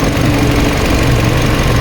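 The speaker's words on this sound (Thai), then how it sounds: "เครื่องยนต์เดินนิ่งๆ แบบนี้" A 2019 Toyota Camry 2.5 G engine idles steadily and loudly nearby, a smooth low rumble with no changes in pace and no voices.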